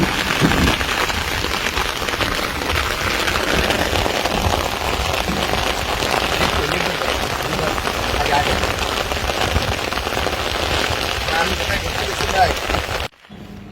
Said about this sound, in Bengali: অনেক বৃষ্টি বেড়ে গেছে।